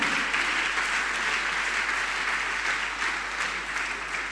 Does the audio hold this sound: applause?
yes